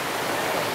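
A waterfall cascade on a rural farm property in Jandaia do Sul, Paraná, Brazil, roaring as a steady, dense wash of rushing water, loud and close, with no voices over it.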